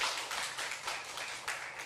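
A church congregation at a night revival meeting claps together in sustained, fairly faint applause that fills the whole moment with dense, even patter.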